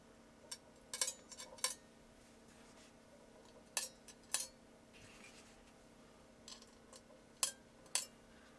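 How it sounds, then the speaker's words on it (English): Small metal screws dropping into a Norbauer aluminium keyboard case, several sharp clinks in short clusters separated by quiet pauses, close and fairly faint. "Let's drop the screws back in."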